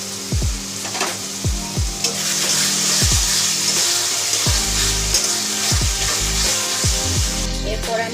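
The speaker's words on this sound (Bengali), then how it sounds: "এরপর টমেটো পেস্টটা দেবো, দিয়ে ভালো করে কষিয়ে দেবো।" Tomato paste sizzles and fries in a pan for katla kalia, a loud steady hiss broken by rhythmic scraping knocks of a spatula stirring every half second or so.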